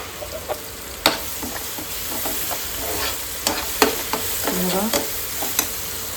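Okra frying in a pan with turmeric, spice masala and chillies, heard as a steady close sizzle broken by several sharp stirring scrapes and clatters through the clip, with no talking.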